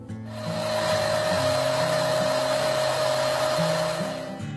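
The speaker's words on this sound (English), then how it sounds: "the handle goes back over the pattern sander to profile the limb pads and back side of the riser" A pattern sander grinds against a wooden bow handle as it is shaped, profiling the limb pads and back of the riser, producing a steady, close abrasive whir with a constant motor hum for several seconds.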